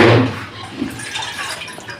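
Water is poured into a pot of tomatoes, heard as a close burst of splashing that settles into faint trickling and dripping.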